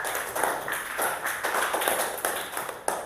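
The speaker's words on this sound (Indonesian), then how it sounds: "Tepuk tangan buat Adil" Classroom pupils clap for a fellow student in short rhythmic bursts, roughly two per second, moderately loud and near, with no talking over it.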